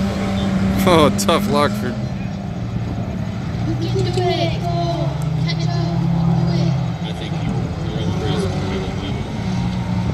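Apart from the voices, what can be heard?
compact race trucks driving on a dirt track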